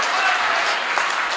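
Audience applause at a Hindi comic poetry recital, a dense, steady wash of clapping from a crowd filling the whole moment without pause.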